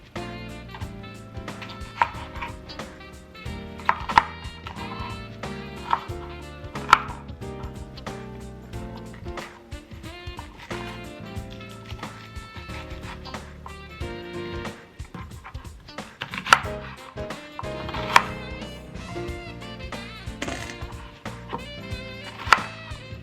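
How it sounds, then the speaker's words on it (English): Vegetables being chopped into one-inch pieces on a cutting board for sweet and sour chicken, a series of knife taps running steadily under a continuous musical background. "we're going to start by chopping our vegetables into 1-inch pieces"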